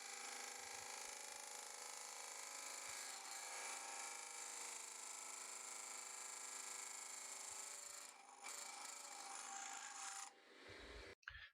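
A chisel hollows out a wooden lidded pot spinning on a lathe, giving a steady, close scraping rasp that runs almost unbroken before it cuts off near the end.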